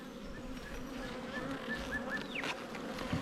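Honey bees hum steadily around an opened hive in suburban Geelong in spring, a faint, continuous buzz with occasional individual bees whining past up close.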